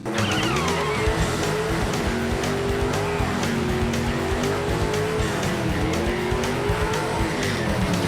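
A race car engine roars loudly and steadily with squealing tires as the wheels spin, a sustained harsh mechanical din with no pauses.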